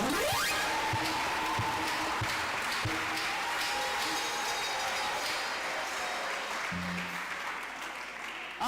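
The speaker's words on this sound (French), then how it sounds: "Est-ce qu'on peut acclamer le Seigneur?" A church congregation claps and cheers for the Lord, a steady, dense wash of applause lasting several seconds and fading slightly toward the end.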